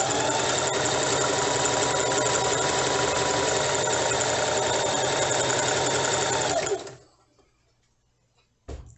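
A sewing machine runs steadily and loud while backstitching the seam of a fabric scrunchie, then stops abruptly, leaving near silence before a brief final thunk.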